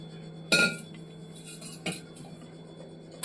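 A metal pot set down in a home kitchen while making paneer: a sharp clank at the start, then a softer knock and a faint tap near the end, close by with no talk.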